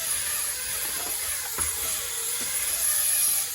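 A Syma X100 mini drone lifts off indoors above a computer desk, its tiny rotors giving a steady high-pitched whirring hiss throughout, close and fairly loud.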